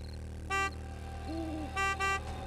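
A car horn in the zombie survival game 7 Days to Die honks three times: a short toot, then two longer blasts close together, loud and clear over a steady engine hum, with a brief lower tone in between.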